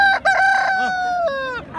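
A rooster crows loudly and close by, one long drawn-out call with a short break near the start, trailing off at the end.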